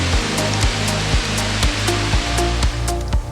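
Waterfall in the misty Sapa highlands of Vietnam, a steady broadband rush of falling water that fills the scene without a break, with faint low thumps recurring underneath and no voices.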